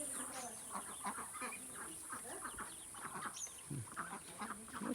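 Ducks on a home duck farm quack and honk in a busy, overlapping chorus with continuous irregular calls against a steady high background hum.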